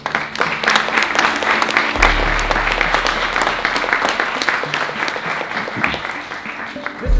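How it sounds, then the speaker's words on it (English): An audience gives a round of applause for competing teams at a carbon removal challenge event, dense sustained clapping from a large crowd lasting several seconds, close and loud with no speech over it. "So let's do a quick round of applause."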